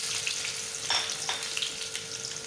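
Chopped garlic sizzles steadily in hot oil in a pan as a tadka is made for whole masoor dal, a continuous bright frying hiss with a few small pops, close and alone.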